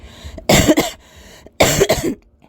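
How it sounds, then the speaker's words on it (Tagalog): Two harsh, rasping coughs close to the microphone, each a short cluster of barking bursts, separated by a quiet pause. "ayan ang aking ubo"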